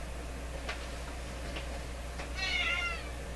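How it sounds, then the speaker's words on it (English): A cat lets out one meow toward the end, over a steady low electrical hum and a few faint ticks beforehand, with no one talking. "Meow."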